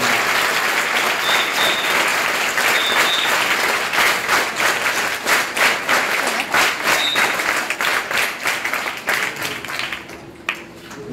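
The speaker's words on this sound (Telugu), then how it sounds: "ఒకసారి గట్టిగా అందరూ చప్పట్లు కొట్టి" A crowd at a public event at a backward-classes residential school in Karimnagar claps loudly and continuously, the dense applause thinning into scattered claps near the end.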